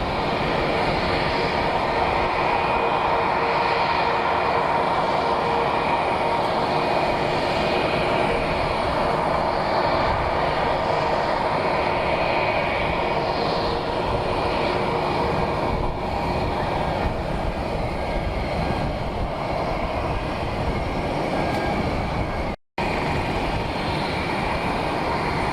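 A heavy jet airliner rolls and departs at Palm Beach International Airport, a loud steady broadband engine roar sustained throughout, heard from a distance with a brief dropout near the end.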